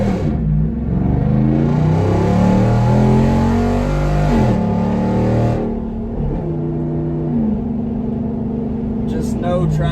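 A Jeep Wrangler Rubicon 392 V8 roars hard under full acceleration in two-wheel drive, loud rising revs with gear changes stepping the pitch, then settling into a steadier drone as it eases off near the end.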